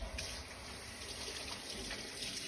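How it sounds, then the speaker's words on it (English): Hands are washed under a running kitchen tap, giving a soft continuous trickle and splash of water, faint and steady throughout with no talking. "I have to wash my hands first"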